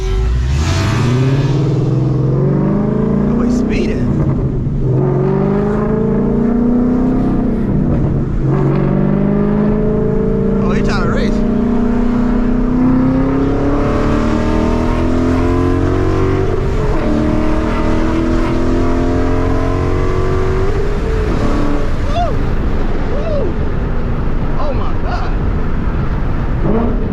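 A 2014 Ford Mustang GT V8 revs hard to high RPM from inside the car, rising and falling loud engine pulls with gear changes, under intermittent talk from the driver.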